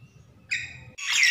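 A Nias hill myna sings close by: a clear sustained whistle, then a brief pause and a louder, harsher chattering burst.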